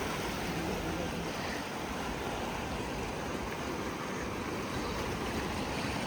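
Sea waves at a Worli shoreline where people are fishing with a rod wash steadily over the feet in a continuous broad rushing wash, loud and unbroken throughout, with no distinct voices over it.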